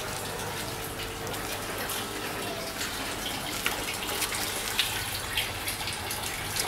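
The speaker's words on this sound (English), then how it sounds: "from here the water goes into the sump tank which is over there" Water flows from the fish tank pipes of a 500-liter aquaponics system into a 400-liter sump tank, a steady close gushing and splashing that runs continuously without speech.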